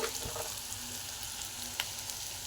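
Sliced onion with a pinch of salt frying in oil, a faint, even sizzle with a couple of soft stirring knocks and no talking.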